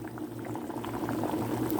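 Water bubbles at a steady rolling boil in a pot of potato soup, a continuous close gurgle and pop with no voices.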